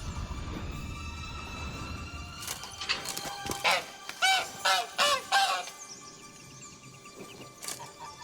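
A caged goose in The Witcher 3 honks in a quick burst of loud, nasal calls, several sharp honks in a row after a stretch of ambient game background.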